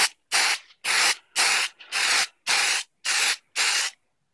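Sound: spraying Valspar High Gloss Lacquer onto a mask

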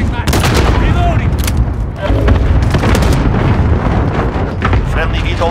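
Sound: cluster strike explosions in Call of Duty: Modern Warfare (2019) video game

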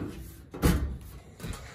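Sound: garage drawer being opened

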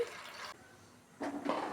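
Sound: pouring water over cut vegetables in a pot

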